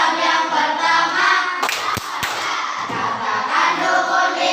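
A primary school class of children clap a rhythmic chant about the pillars of Islam, steady group clapping and voices throughout with a couple of sharp, close hand slaps standing out.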